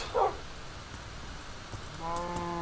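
A pet wolf in the Minecraft modpack Agrarian Skies gives a short bark near the start and a tonal whine near the end, both faint over low background noise.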